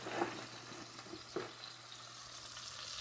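Brussels sprouts seasoned with thyme sizzle steadily in a frying pan as they are stirred and flipped, with a brief scraping clatter near the middle over the continuous hiss.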